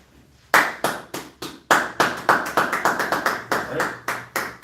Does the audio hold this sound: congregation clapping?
yes